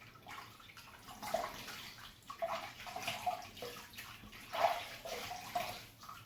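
A faint, steady stream of running water from a tap while rinsing after shaving, with soft splashing and trickling throughout and no voices.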